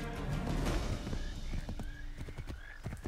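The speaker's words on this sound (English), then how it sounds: "I'm stealing your horse." In the video game Assassin's Creed 3, a horse gallops with rapid, close hoofbeats and lets out a neigh, loud over the game's background sound.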